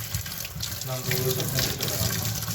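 Market vegetables being washed under a running kitchen tap, a steady splash of water filling a sink bowl, continuous and close, with faint voice in the background.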